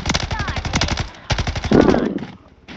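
Rapid automatic gunfire in the video game Warzone 3 plays as loud bursts of clustered shots with a short pause between them, near and punchy.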